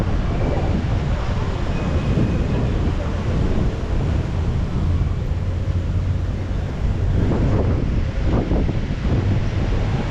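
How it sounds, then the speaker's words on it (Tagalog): Strong wind blows by a river, roaring and buffeting the microphone continuously, with voices briefly audible underneath. "Hangin."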